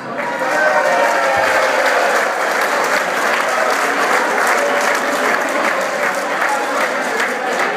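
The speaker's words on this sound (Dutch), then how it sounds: "En om daarmee te beginnen zou ik al een applaus voor jullie zelf mogen geven" Volunteers at a shooting club evening give a long, even round of applause, dense hand clapping heard close and loud with a faint murmur of voices beneath.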